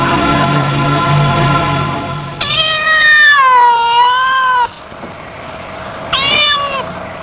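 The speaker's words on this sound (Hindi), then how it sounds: "काली बिल्ली रास्ता काट गई" A black cat crossing a road gives a loud, drawn-out meow with a wavering pitch, followed after a short pause by a second, briefer meow, both close and clear over a steady background.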